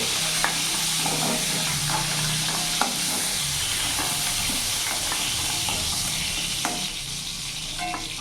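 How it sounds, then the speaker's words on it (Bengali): Whole cumin, bay leaf and a dried red chili sizzling in hot oil, a loud close hiss with scattered crackles and the scrape of stirring, no talk. "এর মধ্যে ফোড়নে দিয়ে দিলাম গোটা জিরে তেজপাতা আর একটা শুকনো লঙ্কা"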